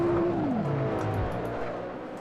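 Car engine in the racing game Assetto Corsa, a steady loud drone whose pitch drops as the car slows, with gravel crunching and rumbling underneath for the short stretch.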